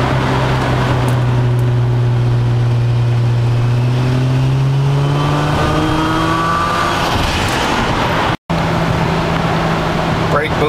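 A 2002 Turbo Maxima with drive-by-wire accelerating hard in fourth gear from a 50 mph roll, loud, close engine drone climbing steadily in pitch under heavy wind and road noise.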